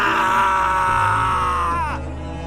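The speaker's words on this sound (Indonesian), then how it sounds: "Arga menjerit dan berlari keluar kamar." A voice lets out a sustained, strained scream that slowly falls away after about two seconds, loud and close, acted out as a fright scream in Indonesian horror narration.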